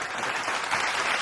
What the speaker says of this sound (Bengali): সবাই একটু হাততালি দিবা।